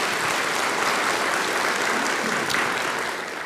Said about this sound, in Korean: 박수 한번 보내드리겠습니다